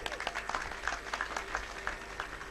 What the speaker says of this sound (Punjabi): ਇਹਨਾਂ ਦੇ ਨਾਂ ਤੇ ਇੱਕ ਵਾਰ ਤਾੜੀਆਂ ਜ਼ਰੂਰ ਮਾਰ ਦਿਓ ਸਾਰੇ